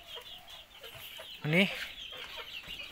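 Newly hatched Bangkok chicken chicks give one short, loud, rising peep or cluck near the middle, with faint room noise before and after and a brief spoken word.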